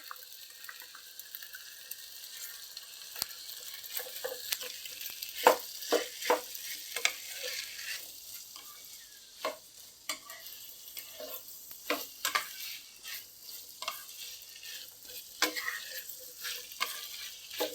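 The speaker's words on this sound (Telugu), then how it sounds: "ఇప్పుడు వేసేసుకుందాం ఒక స్పూన్ అల్లం వెల్లుల్లి అండి" Ginger garlic paste frying in a pan for a mixed vegetable curry, a soft continuous sizzle under repeated scraping and tapping of a spoon as it is stirred, with no talking.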